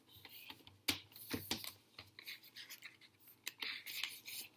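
Paper is creased and folded into a fortune teller, with crisp rustles and scratchy crinkles in short irregular bursts, close and fairly quiet.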